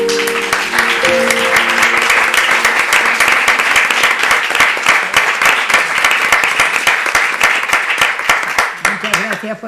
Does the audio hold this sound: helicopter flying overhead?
no